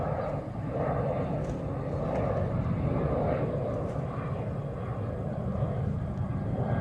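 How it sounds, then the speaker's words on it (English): Airplanes flying overhead give a steady, loud, broadband roar that fills the whole stretch with no break and no talking. "I lose focus when these planes go overhead and they keep flying out every like 5 seconds"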